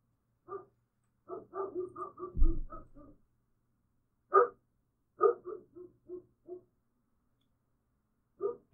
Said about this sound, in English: that is a barking dog.